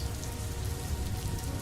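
Steady rain falling on a surface, a dense, even hiss of drops with a low rumble beneath, continuous and soft with no voices or other sounds.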